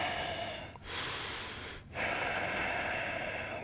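A person holding a yoga pose draws loud, close breaths through the nose, two long airy inhalations separated by short pauses, with no one speaking.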